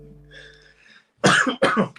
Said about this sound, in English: Big old cough straight away.